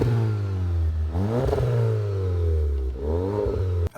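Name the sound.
car exhaust droning while accelerating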